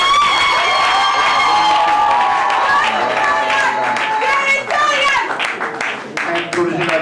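Wedding guests clap and shout around the ring at a church ceremony, a loud, lively crowd with ululating, high-pitched cheers and voices over the applause, busy and close.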